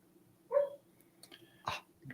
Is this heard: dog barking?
yes